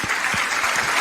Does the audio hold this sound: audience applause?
yes